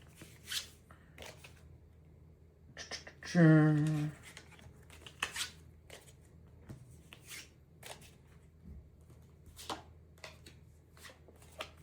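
Playing cards riffle and slide as a deck is sorted and cards are pulled out, soft scattered flicks and one louder shuffling burst partway through, with a faint steady hum underneath.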